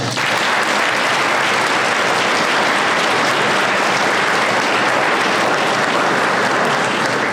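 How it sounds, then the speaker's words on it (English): An audience at a senior awards evening claps for two staff members, producing loud, sustained, even applause that runs unbroken for several seconds with no talking over it. "I think we should give them a round of applause."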